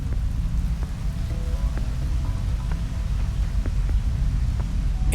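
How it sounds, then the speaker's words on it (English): Rain falls hard in the video game Rain World, a dense, steady downpour that drums on surfaces. A low rumble sits underneath, and faint scattered ticks and tones break through now and then. "In Rain World, the rain is the equalizer of all."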